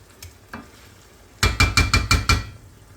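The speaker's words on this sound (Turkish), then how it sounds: "İki dakika daha kavuruyoruz." A dolma filling with tomato paste is sautéed in a pan: soft scrapes, then a rapid run of five or six sharp spoon knocks against the pan, close and fairly loud, with no talk.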